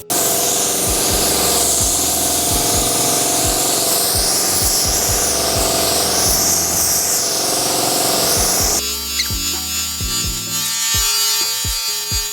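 A spray can hisses steadily as primer is applied to car parts for an 86 RX7 FC front end and interior, a loud continuous spray with faint rhythmic ticks, changing tone near the end.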